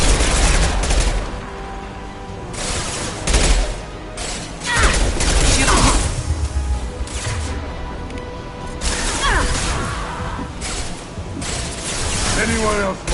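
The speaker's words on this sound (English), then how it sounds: "Firing an impact shot!" Weapon fire in the video game Mass Effect 2, an impact shot among bursts of gunfire, booms and crashes, with characters speaking between the volleys.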